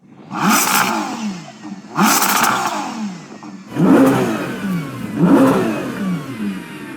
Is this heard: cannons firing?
no